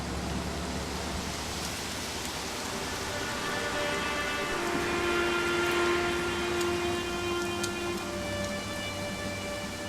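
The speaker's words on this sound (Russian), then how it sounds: "Вот дождь так льет." Pouring rain in the Blues and Bullets video game, a continuous dense hiss of falling water with soft low rumbles, steady and unbroken throughout.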